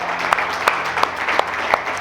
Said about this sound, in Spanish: recíbanlo con un fuerte aplauso